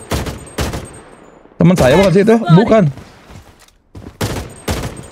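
Gunfire from the shooter video game Blood Strike: several sharp bursts of rapid shots at the start and again near the end, with people talking in between.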